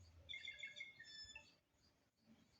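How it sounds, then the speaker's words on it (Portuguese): Cancão birds, a bird of Brazil's Nordeste region, chirp in a quick run of bright, high twittering calls during the first half, then fall quiet amid faint outdoor background. "Aqui no Nordeste a gente chama esses pássaros de cancão."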